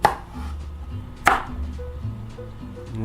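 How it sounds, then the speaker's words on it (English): A knife cuts rinsed potatoes in half on a board, with two sharp chopping knocks spaced about a second apart, each followed by quieter handling and low background hum. "Now what we're gonna do is slice each of these in half."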